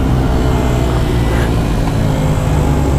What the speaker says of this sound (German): Rim, Alter, die KTM ist laut.